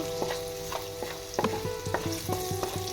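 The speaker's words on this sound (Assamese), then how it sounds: "হেতাটোৱে লাৰিব লাগিব" Jackfruit pieces stirred with a spatula in a clay cooking pot, with repeated scraping strokes and knocks over a steady sizzle of frying, close and fairly loud, no voices.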